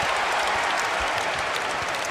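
Crowd in a basketball arena at a Purdue versus West Virginia college men's game cheering and applauding, a dense, loud, continuous roar with clapping filling the whole moment.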